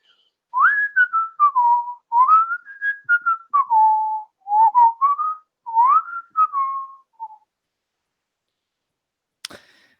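A voice imitates a guard whistling idly, a loose, wandering tune of short bright phrases that rise and fall for several seconds, heard close and alone, ending in silence and one sharp click.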